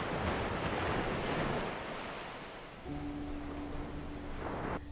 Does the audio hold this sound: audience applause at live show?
no